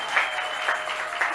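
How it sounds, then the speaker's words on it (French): Church congregation applauding during a Sunday worship service, a short burst of steady clapping from many hands. "Applaudissons pour le Seigneur."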